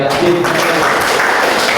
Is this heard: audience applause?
yes